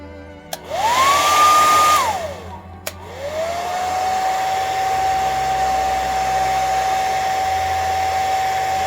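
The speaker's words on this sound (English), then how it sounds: "let me see if I can maybe move stuff with the hairdryer here." A hair dryer whirs on with a rising whine, cuts off after a click, then starts again and blows steadily at a lower pitch.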